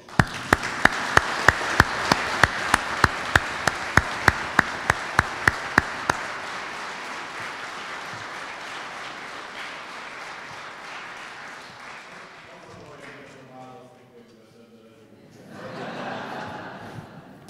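Applause at a church school's opening ceremony, with loud regular rhythmic clapping in unison for several seconds, then fading into quieter scattered clapping and room noise, with brief talk near the end.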